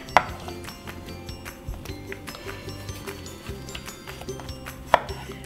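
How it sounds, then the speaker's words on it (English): A knife chops tomatoes steadily on a cutting board, with even, regular thuds and a couple of sharper clinks, no talking. "So start out by chopping your tomatoes"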